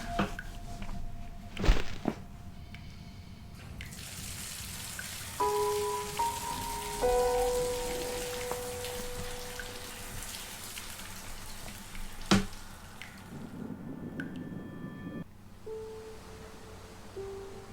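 Shower water runs steadily in The Cat Lady video game, a constant hiss of spray with a few brief tonal game sounds and soft knocks layered over it.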